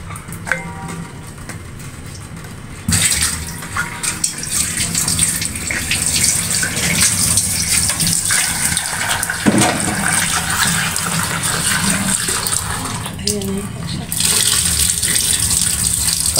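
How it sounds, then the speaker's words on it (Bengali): Jackfruit seeds and masoor lentils rinsed together in water, with steady splashing and sloshing close by throughout, a few brief louder swishes, and no talk. "কাঁঠালের আটি মুসুরির ডাল একসাথে ধুয়ে নিতেছে।"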